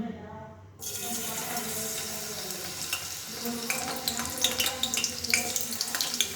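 Garlic dropped into hot oil for gholachi bhaji (purslane greens) sets off a close, steady sizzle about a second in, a continuous hiss dotted with small crackles and pops.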